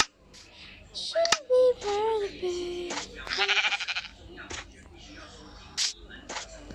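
Several sheep bleats sound over a few seconds, wavering and close, mixed with people talking and small handling noises.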